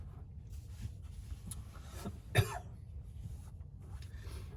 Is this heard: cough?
yes